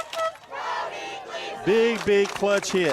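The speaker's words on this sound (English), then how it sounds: "And the crowd chants Brody Gleason" A high school baseball crowd at a state prep game, Coalfield against Eagleville, chants a player's name in loud rhythmic bursts of massed voices, with a commentator talking over the start.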